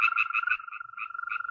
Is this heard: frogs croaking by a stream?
yes